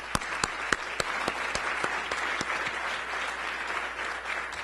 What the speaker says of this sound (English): And so if I could ask you one more time for a round of applause.